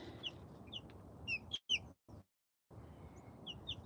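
Bantam chicks on their first day outdoors give a handful of high, thin peeps scattered over quiet rustling, fairly faint and close, with a brief silent gap partway through.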